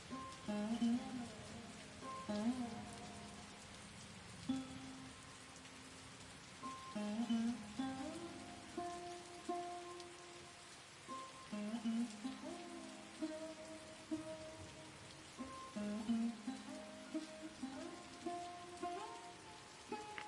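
Cartoon rain effect for a rainy day in a Bengali village: a steady patter of drops runs throughout beneath a melodic music track, with no talking.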